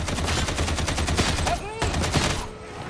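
Rapid gunfire in Warhammer 40K Darktide: a dense string of sharp shots fired in quick bursts, loud and close, with a brief lull before the firing picks up again.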